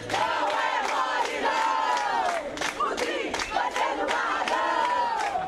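Brazilian football supporters chanting in unison as they welcome their team, a dense, loud crowd roar with rising and falling waves of voices that keeps going throughout.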